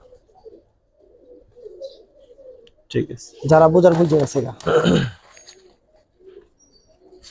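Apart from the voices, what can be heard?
giribaz pigeons cooing in a loft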